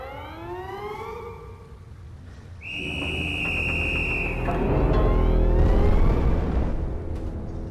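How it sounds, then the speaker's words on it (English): A sustained, piercing whistle blast that controls an elevator in the game Threshold holds steady for under two seconds, loud over a rumbling in-game backdrop, with softer rising tones before it. "Why is the elevator controlled by us blowing a whistle?"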